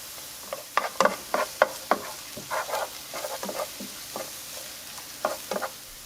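Garlic fries in a pan with rice and vegetables, giving a close sizzle broken by irregular scraping stirs and short bursts of crackle.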